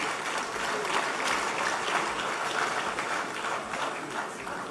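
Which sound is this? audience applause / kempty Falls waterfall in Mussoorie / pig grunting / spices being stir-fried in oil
audience applause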